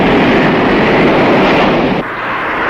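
Military fighter-bomber aircraft flying over a Vietnam War battlefield, heard as a steady, loud, broadband roar of engine and rushing air with a slight dip near the end.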